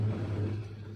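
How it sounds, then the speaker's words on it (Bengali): A bus pulls away, heard briefly as a low, close engine rumble that swells slightly and then eases off. "সবে এখন বাসটা ছাড়লো গৌরাঙ্গ"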